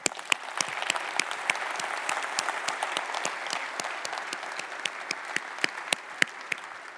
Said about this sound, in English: give a big applause to our community leaders for SharePoint